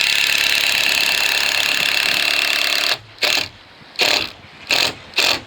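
A screw is driven through a knotted roof batten during a VELUX roof window installation, with a continuous grinding whir for about three seconds, then four short, loud bursts with brief pauses between.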